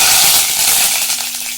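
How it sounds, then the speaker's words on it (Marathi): Curry leaves sizzle in hot oil in a wok for a tempering, a loud, close, hissing crackle that runs the whole brief moment, without any voices. "कढईमध्ये तेल घातलं आहे. त्यानंतर कढीपत्ता घातला थोडासा."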